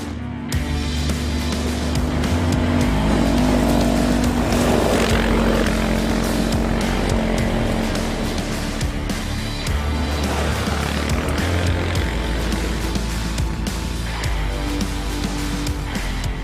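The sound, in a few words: Kymco MXU 550i EPS quad engine during test ride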